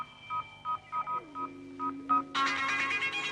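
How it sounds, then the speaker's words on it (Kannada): Keypad tones of a telephone dialing a mobile number in a Kannada thriller film: about eight short, evenly spaced beeps over a low hum, then a sudden loud burst of bright, busy sound at the end. "ಅವ್ರ ಮೊಬೈಲ್ಗೆ ರಿಂಗ್ ಕೊಡು"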